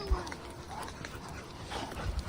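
A dog whimpers softly in a few faint, thin whines, with a low thump and light background noise around it.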